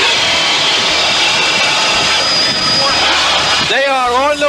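A loud, continuous offshore racing powerboat engine roar fills the whole clip at about 90 mph, steady and close, with a commentator's voice rising over it near the end.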